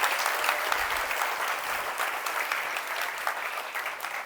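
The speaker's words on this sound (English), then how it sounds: "So give a big round of applause to JavaScript." Audience at a conference talk on JavaScript bursts into a round of steady, dense clapping that fills the room for several seconds, slightly fading toward the end.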